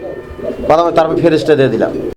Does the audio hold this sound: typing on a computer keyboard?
no